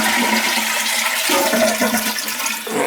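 A leaking household toilet flushes in a steady, continuous rush of water that stays loud and close throughout, with a slight change in tone partway through and no talking.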